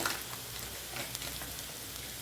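Sliced onions sizzling in a pan with a little salt for a Bengali egg curry, a steady close hiss of frying that fills the whole stretch without talk.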